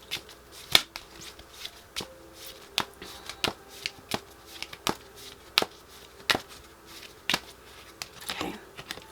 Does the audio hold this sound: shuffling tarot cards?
yes